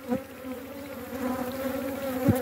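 Honey bees from a swarm buzz around a hive, a close, steady insect drone with a few louder passes near the start and end.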